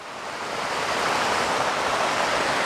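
Steady rushing water of a flowing river just upstream of the Saluopa waterfall, a continuous broad roar that stays close and even throughout, with no voices.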